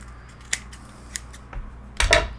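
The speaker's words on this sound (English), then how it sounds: "And trim it all the way down till there's nothing left." Scissors snip along the edge of a small handmade paper sketchbook, a few sharp separate cuts close by, with a longer rustling cut near the end.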